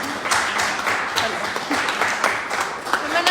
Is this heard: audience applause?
yes